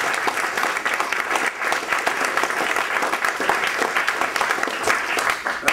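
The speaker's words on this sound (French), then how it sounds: "Alors, ouais, vous pouvez applaudir quand même." An audience applauds after a talk about Python programming: loud, continuous clapping from a roomful of people that holds at an even level for nearly six seconds with no voices over it.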